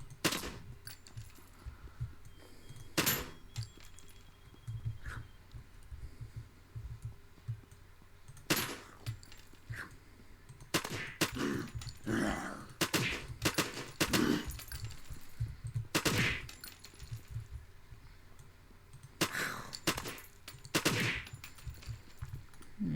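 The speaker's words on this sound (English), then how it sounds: "And shoot the cameras. You can actually shoot the cameras." Gunfire from semi-automatic and fully automatic weapons in the video game Unturned, fired at security cameras: bursts and single shots spread across the stretch, loud and close, with quiet gaps between them.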